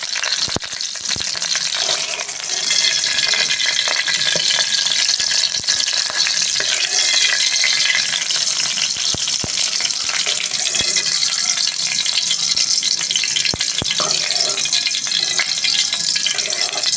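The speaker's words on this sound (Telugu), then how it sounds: "ఇదిగా ఆవాలు, జీలకర్ర, కొద్ది కరివేపాకు ఇది కూడా వేయించుకొని తీసుకుంటాము" Loud, steady sizzling of mustard seeds, cumin and curry leaves frying in a pan, with occasional sharp pops and crackles throughout and no talking.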